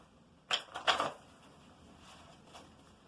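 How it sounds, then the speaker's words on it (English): Tarot cards are shuffled in a brief papery flurry of two or three quick riffling bursts close by, then quiet with a faint soft tap near the end. "I'm going to shuffle again."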